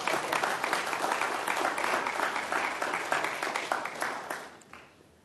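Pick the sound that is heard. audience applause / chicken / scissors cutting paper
audience applause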